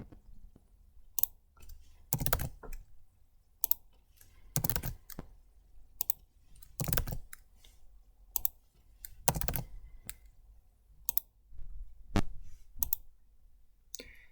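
Typing and clicking on a computer keyboard comes through as scattered, close bursts of keystrokes and clicks separated by quiet pauses, with no talking.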